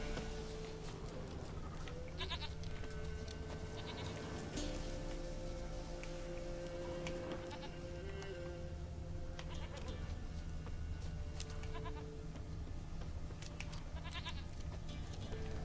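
A goat bleats in The Witcher 3: Wild Hunt, with a few wavering calls rising over the game's dense ambient background of rain-like patter and steady music tones.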